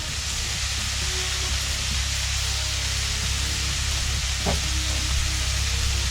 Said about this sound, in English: I'm going to put my little weight that I have here on top of it to cook it